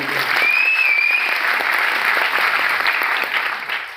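Audience at a program applauds loudly for the organiser, Mr. Vijay Bedavi: dense, sustained clapping from a crowd, steady for about four seconds before easing slightly at the end.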